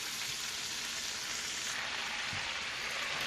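Cabbage tossed into a frying pan with kielbasa sizzles in a steady, close crackle, with a couple of soft thumps as pieces land.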